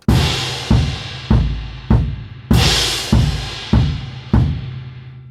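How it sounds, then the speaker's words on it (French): Drum kit crash cymbal struck together with the bass drum, eight loud hits in a steady rhythm over a few seconds, each a deep thump with a bright washing cymbal ring that decays before the next, no talking. "Donc la crash avec la grosse caisse en même temps."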